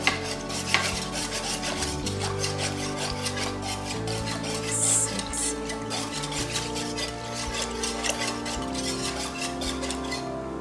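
Cream of mushroom soup being mixed in a pot for homemade mushroom soup, a steady rasping, scraping stir that runs continuously with low rumbling underneath and no voices.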